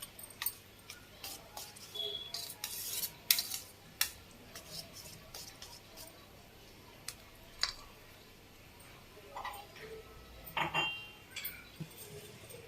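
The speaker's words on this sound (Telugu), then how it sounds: "కొంచెం కారం వేసుకొని బాగా కలిపేసేసి ఆమ్లెట్ వేసుకుందాం." Eggs with chili powder are beaten for an omelette in a bowl, giving sparse, quiet clinks and scrapes of utensil on the dish, scattered irregularly over a faint background.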